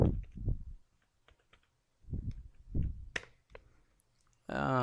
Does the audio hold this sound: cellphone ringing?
no